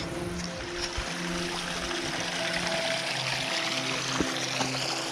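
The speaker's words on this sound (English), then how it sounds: "That'll be all the water from last night's rain" Running rainwater flowing along a walking trail on the Freycinet coast, a steady, moderately faint rushing and trickling with a low hum underneath.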